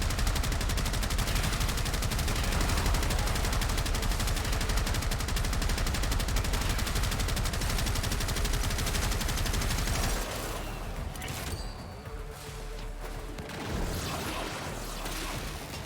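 Sustained heavy automatic gunfire with hard recoil from a weapon in the video game Warframe, loud and dense for about ten seconds, then giving way to scattered quieter shots and game noise.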